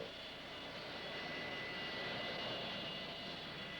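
Aircraft engines at Fort Lauderdale International Airport, a steady loud roar of a nearby airplane that holds constant with no speech.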